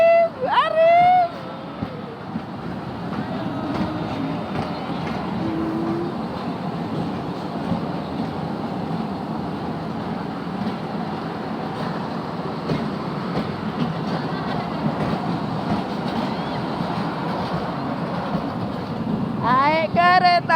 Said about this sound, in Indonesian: Naik kereta api, tut tut tut.